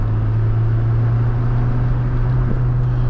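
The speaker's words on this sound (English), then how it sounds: "I love the sound of that engine" A 1989 Saab 900 Turbo Convertible's engine drones steadily at idle or cruise, a constant low hum with a faint whine on top, heard from inside the car.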